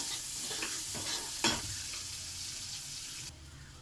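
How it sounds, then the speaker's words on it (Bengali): Chopped onions and slit whole green chillies sizzle steadily in hot oil in a pan, a soft continuous frying hiss with a brief louder crackle midway and faint stirring, no voices. "তো আমি পেঁয়াজ কুচি, গোটা লঙ্কা চিড়ে দেওয়া আছে, তাহলে তেলে দিয়ে দেওয়া হলো।"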